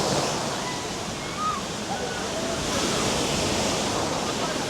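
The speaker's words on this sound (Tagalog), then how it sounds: "look at that waves. Show them the waves." Broadband surf from ocean waves at a cove in Aloguinsan, a steady rushing wash with slight swells, mixed with wind noise; people talk briefly at times.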